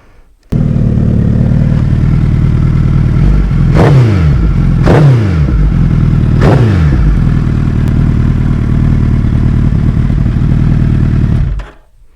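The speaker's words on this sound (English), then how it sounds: "So I'll just show you the sound of this bike." A 2020 Suzuki Hayabusa GSX1300R idles loudly up close with a deep steady rumble, broken by three quick throttle blips that rise sharply and fall back before the engine cuts off.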